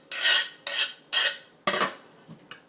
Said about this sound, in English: After I put the garlic in there, just mix it around.